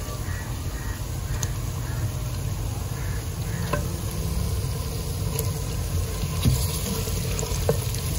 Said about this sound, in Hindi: तो प्याज फ्राई होने के बाद हम इसमें शामिल कर रहे हैं चिकन